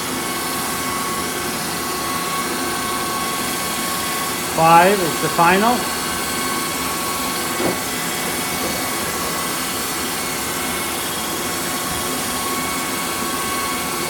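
Steady drone of a pasta sheeting machine's motor running continuously throughout, fairly loud and even, with a person briefly talking over it.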